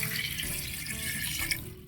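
River water is poured into a cooking pot for Filipino nilagang baboy, a steady splashing stream that continues for a couple of seconds at close range.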